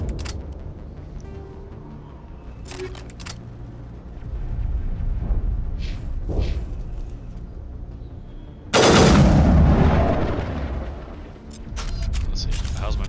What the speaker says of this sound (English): Let's see, how's my pistol fire now?